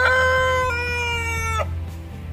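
A gold Brahma rooster crows once, a loud, close, drawn-out call that breaks off at the end, with a low steady hum underneath.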